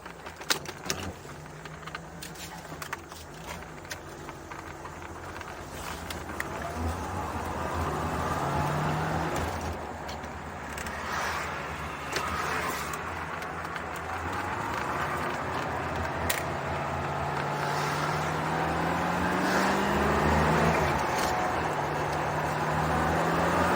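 A Chevrolet C4 Corvette cruises along with a low engine drone heard from inside the cabin, rising gently with speed over wind and road rumble, fairly quiet overall.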